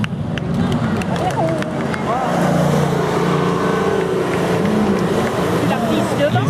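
A Morgan leads a line of classic and modern cars onto the track at an automobile festival in Mulhouse, engines droning steadily nearby with a swell midway, while a commentator speaks over the motors.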